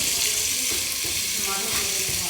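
Onions frying in a pan until they brown, giving a steady, bright sizzle with soft stirring scrapes throughout, close and fairly loud.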